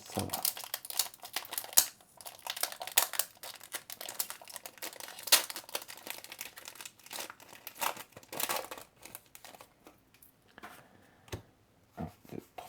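A Pokémon card booster pack's foil wrapper is crinkled and torn open up close, irregular bursts of crisp crackling and rustling with brief pauses between them.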